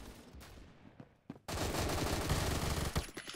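A Vector submachine gun chambered in .357 SIG fires in the Roblox video game, heard as a dense, continuous burst of rapid automatic fire that starts abruptly after a few scattered sounds and runs to the end.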